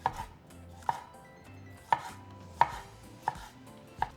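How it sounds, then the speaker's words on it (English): A kitchen knife slices tomatoes into strips on a cutting board with six crisp, evenly spaced chops, close and clear, with no talking. "Just run your knife and cut into strips."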